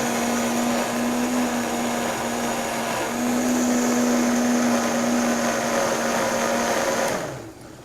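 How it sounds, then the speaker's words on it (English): A countertop blender whirs at high speed, blending soaked almonds and water into almond milk until smooth, a loud steady motor whine with a constant pitch that winds down abruptly at the end. "Go ahead and blend it until it's smooth."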